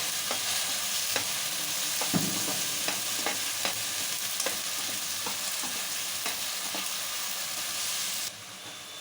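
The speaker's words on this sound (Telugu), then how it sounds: "చెక్క లవంగ ఆయిల్ బాగా వేడైందండి" Whole cinnamon and cloves sizzle in hot oil for a fish curry, a steady close crackle with scattered sharp pops and a few stirring clicks, running without talk until it drops quieter near the end.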